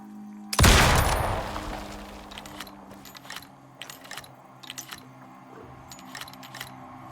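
A single loud blast opens in a video game shootout against enemies, decaying into a scatter of fainter clicks, rattles and distant pops.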